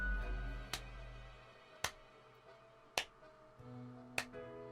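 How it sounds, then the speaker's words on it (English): Four slow, evenly spaced single claps from a video game ring out over a quiet background, each a crisp isolated smack about a second apart. "Most sarcastic claps ever."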